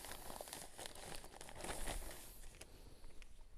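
Crinkling of a plastic bag being pulled over a freshly wrapped walnut graft during variety changeover grafting, a steady close rustle and crackle lasting throughout with no talk.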